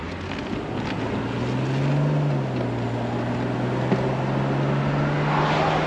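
A 1995 Mercedes-Benz E320 Cabriolet with under 43k miles cruising smoothly: a steady, low engine drone with a slight rise in pitch, mixed with constant wind and road rush, and no talking.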